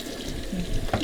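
A kitchen sink faucet runs hot water into the basin, giving a steady, close splashing stream for about a second with no talking.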